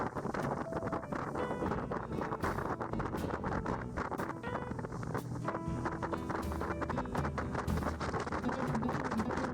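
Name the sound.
motorboat accelerating with throttle pushed forward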